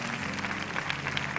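A church congregation applauding the choir at a Sunday morning service, a short burst of dense, sustained clapping from many hands filling the room at steady loudness.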